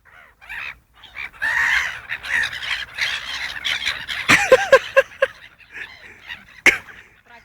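Several birds squawk and caw harshly while fighting over food, a close, busy burst of overlapping calls with clattering scuffles and one sharp, loud cry near the end.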